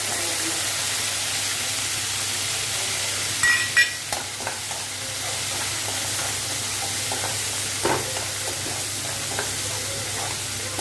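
Steady oily sizzling of dried red chilies frying in oil in a pan, with occasional light clicks and pops, no voices.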